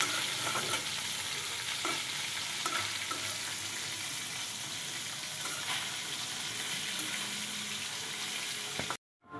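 Desi koi fish frying in a hot pan for a curry, a loud continuous sizzle with occasional spatters and stirring scrapes, ending in a sudden brief cut.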